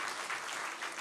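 Church congregation applauding to bless the children during a New Year revival service, a dense steady wash of many hands clapping, moderately distant and continuous.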